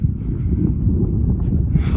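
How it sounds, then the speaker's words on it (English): Heavy wind buffets the microphone in a steady low rumble throughout, with no voices. "Sorry for the noise, but it's windy"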